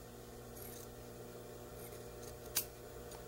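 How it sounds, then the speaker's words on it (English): Scissors trim excess fabric along a collar neckline during dress draping, with a few soft snips and one sharper cut over steady low room hum. "trim along the neckline edge"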